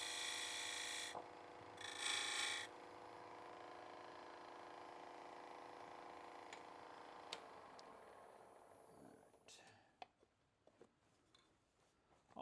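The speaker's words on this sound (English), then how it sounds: "See how I'm cutting with the side of the skew there?" Skew chisel cutting wood on a lathe while turning a hollow Christmas ornament: a steady spinning hum with scraping bursts early on, then the lathe spins down, leaving faint taps and clicks.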